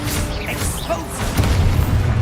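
An Expulso spell blast in Hogwarts Legacy lands as a loud booming explosion with a crashing rumble, following shorter magical whooshes.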